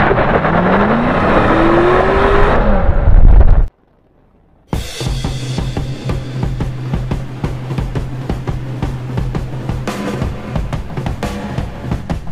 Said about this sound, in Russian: Мы починили наш автомобиль, едем дальше.